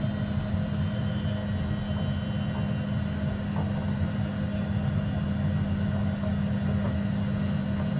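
A HondaJet very light jet taxiing toward the runway in a flight simulator, giving a steady, loud engine drone and low rumble that holds evenly throughout with no talking.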